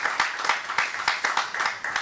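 Audience at a church service applauding, a brief burst of quick rhythmic hand claps, fairly close and moderately loud, without speech over it.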